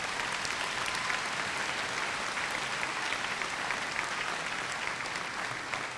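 Sustained applause from a large graduation audience honoring senior class officers at a 2018 high school ceremony, a dense, steady wash of many hands clapping throughout with no pauses.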